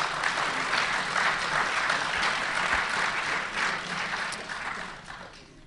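An auditorium full of students applauding at a college panel event, a dense, steady wash of clapping that fills the space and tapers slightly toward the end, with no talk over it.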